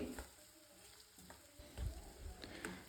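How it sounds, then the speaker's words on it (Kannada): Capsicum frying in a pan with ginger garlic paste gives a faint, steady sizzle with occasional soft stirring scrapes, quiet and close, without speech. "ಕ್ಯಾಪ್ಸಿಕಮ್ ಒಂದು ಅರ್ಧ ಫ್ರೈ ಆಗಬೇಕು, ಅಲ್ಲಿವರೆಗೂ ನೀವು ಇದನ್ನು ಚೆನ್ನಾಗಿ ಫ್ರೈ ಮಾಡಿಕೊಂಡು"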